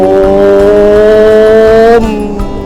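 A voice imitates a big motorbike engine revving, a loud sustained buzzing drone that holds steady for about two seconds, then drops and trails off roughly, close to the microphone.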